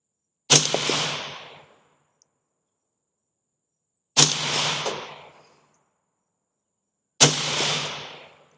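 Three gunshots fired at a target 100 yards away, each a sharp loud crack with a decaying rumble of about a second, spaced several seconds apart in otherwise silent air.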